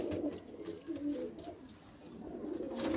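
An Indian pigeon breeder pair coos softly in low, repeated throaty phrases, steady and close, with no voices over it.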